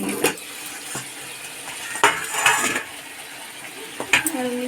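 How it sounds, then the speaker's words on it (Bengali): A metal lid is set on a cooking pan of chicken, with several sharp clanks and scraping rattles spaced across the clip over quiet kitchen background. "আমি একটু ঢেকে দিচ্ছি আর একবার খুলে আর একবার নেড়ে"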